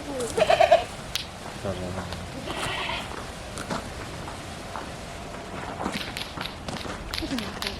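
Goats in a Baloch village in Balochistan bleat in a short burst of nasal cries near the start, with footsteps, rustling and villagers talking around them outdoors.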